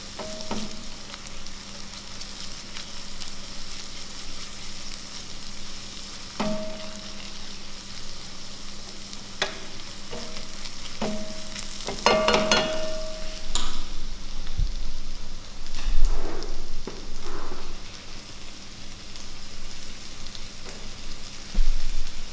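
Vegetables sizzle and fry in a pan with garlic for spinach pasta, a steady crackling hiss broken by occasional stirring clatters and utensil taps, close and moderately loud with no talking.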